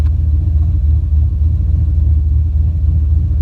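A car with a transbrake and bump button setup runs with a loud, steady low engine rumble from inside the cabin as it pulls away, continuous and without talk.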